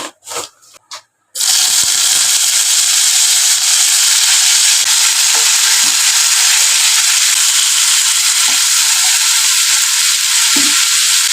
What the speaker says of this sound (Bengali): আলু ভাজাটা তাহলে ভেজে নি একটু কালো জিরা ফোড়নে দিয়ে দিলাম অল্প করে